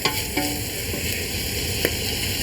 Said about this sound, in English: Give it a good stir so that the carrots don't burn.